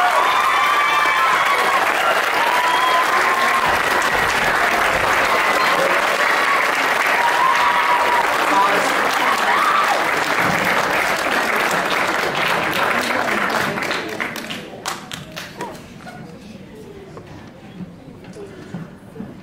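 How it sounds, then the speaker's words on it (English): Sustained applause from a school band concert audience at a Georgia middle school awards moment, dense and steady clapping for about fourteen seconds before thinning out to scattered claps at the end. "Can you please give all of our students, both who won an award and everyone, another round of applause, please?"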